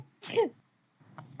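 A single short sneeze, sharp and close, bursts out in a quiet moment, followed by a faint voice.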